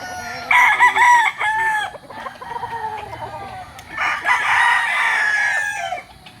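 A Sweater-breed gamecock rooster crows loudly and close by on a farm in Batangas, with two strong cock-a-doodle-doo calls separated by a short pause.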